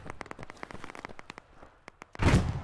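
A grenade goes off in the video game Operation: Harsh Doorstop: a single loud, booming blast near the end, after a run of sharp crackling gunshot-like pops.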